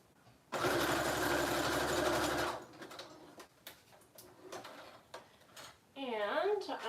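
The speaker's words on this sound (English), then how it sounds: "I'm just going to finish sewing these pieces on real quick" An electric sewing machine stitching trim onto small handmade journals runs in one steady, whirring two-second burst up close, followed by light clicks and handling noises before a voice speaks.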